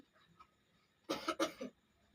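A short burst of two or three close coughs from a young boy with a cold, following a faint quiet moment.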